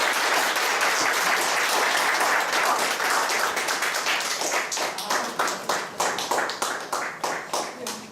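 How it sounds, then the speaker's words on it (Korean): A church congregation claps to welcome a pastor, loud sustained applause that thins into looser, separate claps as it gradually fades toward the end. "우리 박수로 맞이하겠습니다."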